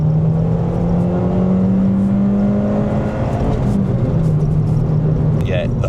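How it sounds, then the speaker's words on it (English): Peugeot 206 GTI 180 pulling hard in second gear, the engine note rising steadily and loud from inside the car, with a faint voice near the end. "let's do a little second gear pull"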